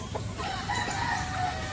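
A rooster crows nearby, one drawn-out call over faint background noise, with no talk.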